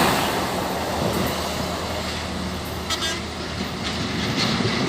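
A Makmur bus passing on a Sumatran road near Sibolga, a steady loud roar of engine and road noise filling the scene throughout, with a faint horn-like tone midway.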